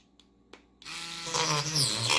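Dremel rotary tool grinds into a plastic graded card slab, starting after a few faint clicks with a rising high whine that bogs slightly as it cuts and melts; close.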